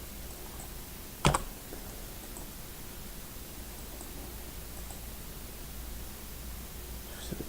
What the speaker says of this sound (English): Typing something wrong here.